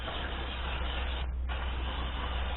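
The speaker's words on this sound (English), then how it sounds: "Spray brake cleaner to clean off the packing oil which is on it." Brake cleaner sprayed onto a new brake rotor, two hissing aerosol bursts with a brief pause between, close and steady, no voices.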